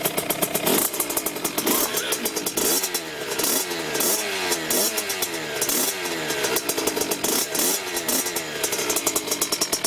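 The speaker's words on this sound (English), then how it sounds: "when you start one of these up, you want to let it just idle a little bit" A 2009 Kawasaki KX65 youth motocross bike's small engine runs close and loud, its buzzing note rising and falling in repeated blips of throttle.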